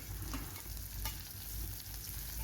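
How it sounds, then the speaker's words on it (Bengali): Mustard seeds and chili frying in hot oil, a dense steady sizzle with small crackling pops, close and continuous without voices. "একটুখানি আমি এটা চালিয়ে নেব বা ভেজে নেব তেলের মধ্যে"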